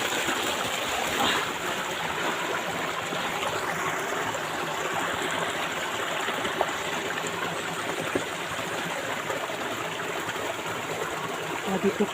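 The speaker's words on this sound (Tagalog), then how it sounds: "Nandito kami sa may sapa, no. Ang daming mga bato." A rocky creek flows steadily in the open, a continuous broadband rush of water over stones that holds an even level throughout with no talk.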